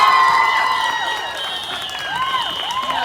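An audience at a Kannada comedy skit applauds and cheers, a steady, fairly loud wash of clapping mixed with whoops and bright tonal calls that runs throughout without letting up.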